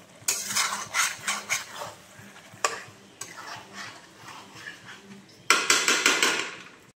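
A spatula scrapes and knocks against a pot of chicken angara curry with cashews, in irregular bursts of stirring that grow louder and busier near the end, with a soft simmer underneath.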